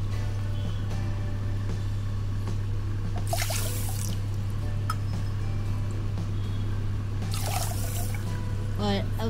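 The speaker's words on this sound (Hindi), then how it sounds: "उसका 3 गुना पानी डाल देंगे हम" Water is poured into an empty vessel holding sugar to make syrup for rasgulla, with two short splashing pours a few seconds apart over a steady low electrical hum.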